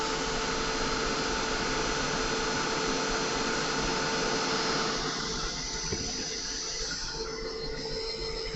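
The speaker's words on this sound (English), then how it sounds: "use the heat gun at the same time" A heat gun blows steadily and loudly to dry paint on a craft project, a continuous close whooshing roar that eases slightly in tone partway through.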